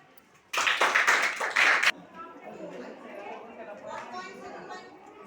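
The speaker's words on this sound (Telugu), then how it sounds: "క్లాప్" A class of third-grade schoolchildren clapping together in a short, loud burst of rapid applause lasting over a second, followed by quieter chatter and voices in the room.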